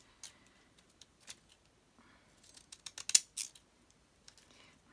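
Scissors snip through paper scraps in a quiet room, a scattering of soft, crisp cuts that bunch into a quicker, louder run of snips near the middle and then trail off.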